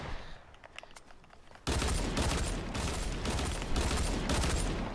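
Rapid dual-pistol gunfire in the Fortnite video game, playground build-battle mode, starts after a quiet opening and continues as loud, dense bursts of repeated shots with brief gaps between them.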